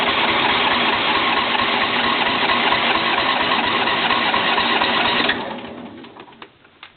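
A John Deere L120 lawn tractor engine during a cold start with the choke on, a steady close mechanical drone that suddenly drops away and fades near the end.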